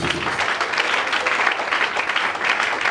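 A church congregation claps for the Lord during a service, producing dense, steady applause that holds loud and even for the whole stretch without letting up.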